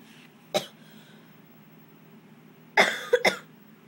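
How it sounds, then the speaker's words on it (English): A single short cough, then after a pause a cluster of three quick coughs, close and fairly loud against a quiet background. "Sorry for my coughing"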